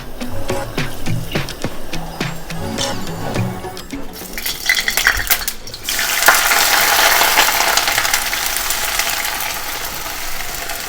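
Ice cubes clatter and drop into a bowl of water to make an ice bath for boiled eggs in a home kitchen, a few sharp clinks followed by sloshing and a steady watery rush.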